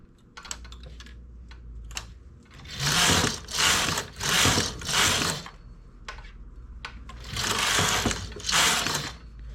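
Domestic knitting machine working rows of bobble stitch, its carriage sweeping across the needle bed in several loud, rhythmic rasping passes, with clicks and short mechanical taps in between and no voices.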